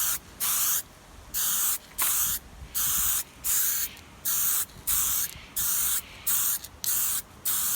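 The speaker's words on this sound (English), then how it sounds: "I'm going to hit it with a clear coat and just see how that comes up." Clear coat is sprayed onto a Ford XR5 turbo headlight during restoration, heard as a series of about a dozen short, even aerosol hisses in a steady rhythm, close and fairly soft.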